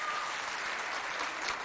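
Brief, dense burst of clapping from an audience at a school competition show, steady and unbroken for the whole moment.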